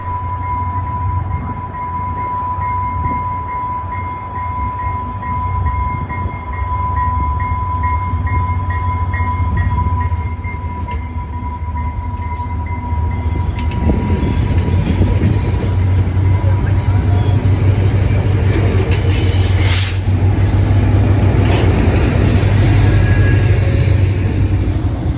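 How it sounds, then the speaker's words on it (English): FrontRunner commuter rail train in Salt Lake City, Utah, rumbling close by with a steady low roar and a ringing tone, then growing louder with clattering wheels and high metallic squeals as it passes. "Utah's commuter rail is called the FrontRunner."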